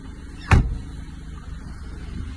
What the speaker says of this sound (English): Let's close these doors.